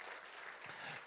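Church congregation applauding during a Sunday worship service to bless young short-term mission volunteers, a soft, distant wash of steady clapping that holds evenly throughout.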